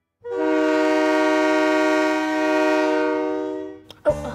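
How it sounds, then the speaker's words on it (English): A big freight train blows its horn in one long, loud, sustained blast that lasts over three seconds before cutting off, followed by a brief clunk. "Our next noise is a big freight train."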